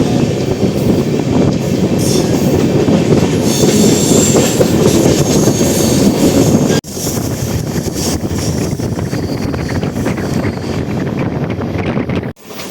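An Amrit Bharat Express train on its Thiruvananthapuram to Hyderabad inaugural run rounds a curve near Aluva. Its wheels rumble loudly and steadily with a clickety-clack rhythm under heavy wind buffeting, with a brief dip in level partway through.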